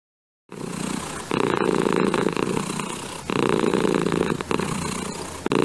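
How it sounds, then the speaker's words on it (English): A cat purring loudly and close up while being stroked, a continuous rumbling purr that swells in pulses with each breath. "The cat purred as I stroked its fur."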